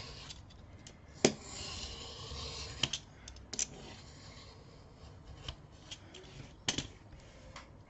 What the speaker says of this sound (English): I can get my craft knife and I can cut it straight